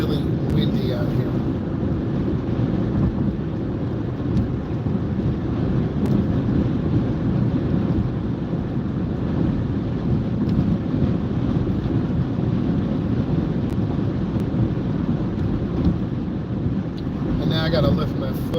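Strong wind roars around a car during a drive, a loud, unbroken rushing noise that fills the whole stretch, with faint vehicle rumble underneath.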